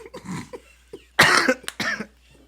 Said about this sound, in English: because I was coughing when you asked.